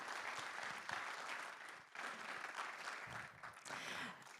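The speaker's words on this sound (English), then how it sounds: "Yes, a round of applause to that." Audience applause at a business forum on SME resilience in Asia, a dense steady round of clapping that dips briefly near the two-second mark and then swells again, filling the whole stretch with no voices over it.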